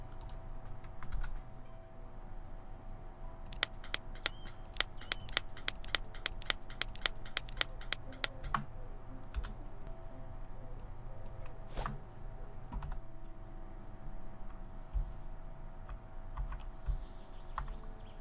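Computer keyboard keys, the arrow keys, tapped in a quick rapid burst of distinct clicks while building with planks in the game Rising World, followed by a few scattered presses, with no talking.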